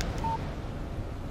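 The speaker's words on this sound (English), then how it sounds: "Text message from Barry." A single short electronic tone from a phone text message alert in the video game Alan Wake, sounding once over a steady low background hum.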